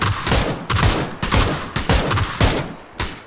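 Rapid semi-automatic gunfire in PUBG on the Karakin map, a loud close series of about six shots in quick, slightly uneven rhythm with short ringing tails.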